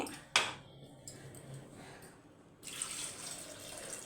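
Water runs and splashes into a metal pot nearby, a steady pouring stream that starts after a brief clink and continues to the end.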